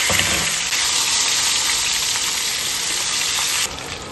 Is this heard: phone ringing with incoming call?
no